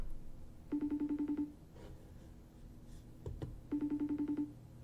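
Outgoing phone call ringing unanswered, two bursts of repeated electronic ring tones separated by a pause, with faint background noise and a brief knock between them.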